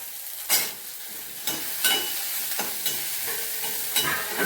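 Dried red chillies and small shallots fry in a hot pan with a steady crackling sizzle, broken by several sharp scraping stirs, close and with no voices.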